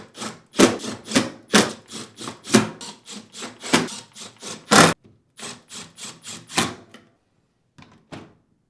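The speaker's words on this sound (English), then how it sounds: "while supporting the panel, reinstall the remaining screws" Screws go back into the outer door panel of a Whirlpool dishwasher: a series of short, scraping, rubbing bursts in an uneven rhythm, close and moderately loud, with quiet pauses near the end.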